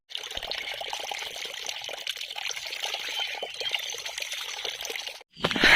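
Drinking water flows steadily from a tap at Dharesvar Mahadev temple, a continuous close splashing trickle that runs for several seconds, then cuts off briefly before a louder burst of flow returns.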